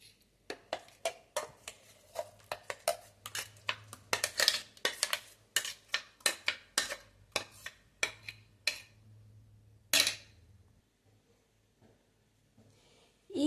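Ground moong dal paste scraped from a grinder jar into a bowl, a series of sharp, close clinks and scrapes of a spoon against metal in an irregular rhythm, with a low hum beneath and quiet gaps between strikes.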